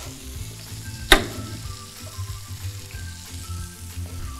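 Onions sauté in a hot pan with a continuous close sizzle and one sharp clank of a utensil against the pan near the start, heard alone.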